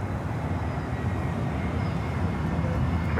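A Frontier Airbus A321-200 arriving at Miami airport, its jet engines making a steady, fairly loud broadband roar that holds evenly across the moment with no voices.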